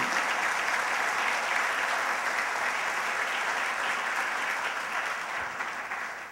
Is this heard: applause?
yes